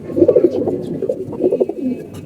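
Pigeons coo in a loft, soft low throaty calls overlapping close by and fairly loud, with a faint background rustle.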